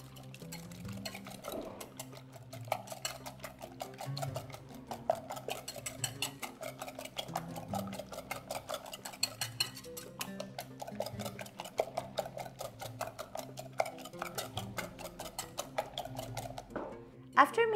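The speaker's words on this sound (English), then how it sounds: "Mix all the ingredients so everything is well combined." Ground beef and egg filling for Moroccan briwats being mixed in a bowl, with soft, uneven clinks and scraping stirs of a utensil against the dish, fairly quiet and close, repeating irregularly throughout with a louder clank at the end.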